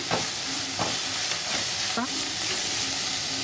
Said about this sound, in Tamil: இப்போ கட் பண்ணி வச்சுருக்கிற பச்சை மிளகா போட்டுக்கலாம்